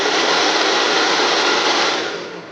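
A handheld blow dryer on its low setting, used for grooming a toy poodle, gives a steady, close, loud whoosh of airflow with no break, easing off slightly at the very end.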